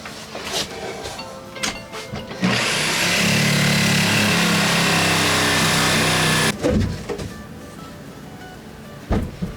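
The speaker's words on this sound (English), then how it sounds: "I can use a sawzall on the inside here. Yeah. Then you just cut along down here." A reciprocating saw cuts along a wall stud in one loud, steady burst of about four seconds, with quieter handling knocks before and after.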